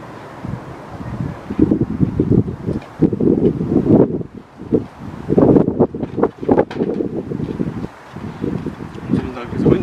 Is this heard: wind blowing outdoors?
yes